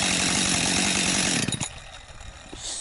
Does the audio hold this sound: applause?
no